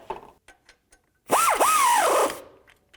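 A ratchet tightens the starter bracket bolts on a 2009-2018 Ram 1500. It gives one close, loud whirring burst lasting about a second, its pitch swooping down and up.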